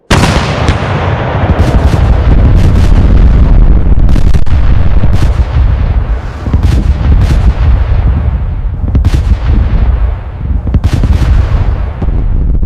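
World War I German artillery barrage at Verdun in 1916, a relentless roar of heavy guns with overlapping booms and sharp cracking blasts, loud and continuous throughout.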